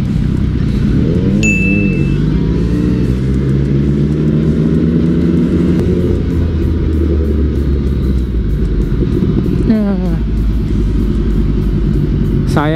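A naked motorcycle rides on the BSD circuit, its engine rumbling loudly and continuously up close with rising and falling revs and wind noise, while a faint voice is briefly heard.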